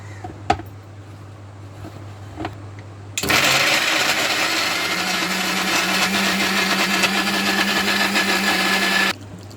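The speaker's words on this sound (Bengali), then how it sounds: "তাই ব্লেন্ডার করতে দিয়ে দিলাম।" An electric blender whirs loudly and steadily for about six seconds as it purées ripe jackfruit pulp, starting abruptly after a quiet, hum-filled lead-in and cutting off sharply at the end.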